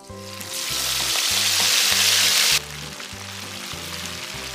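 Chicken frying in a pan of ordinary cooking oil with added red palm oil, giving a loud continuous sizzle that drops somewhat in intensity partway through, while music plays underneath.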